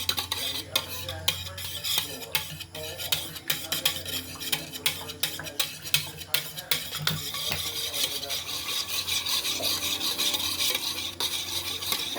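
Pancake batter is mixed in a bowl, the utensil scraping and clinking against the sides in quick repeated strokes, then settling into a steadier, continuous swishing stir toward the end.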